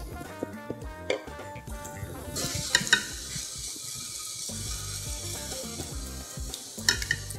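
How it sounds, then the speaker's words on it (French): Sugar, milk and icing sugar stirred together in a bowl for a bain-marie glaze: close scraping and clinking of a utensil against the bowl in an uneven rhythm, over music. "Nous allons ajouter le sucre, le lait et du sucre glace. Bien mélanger, puis retourner au bain-marie."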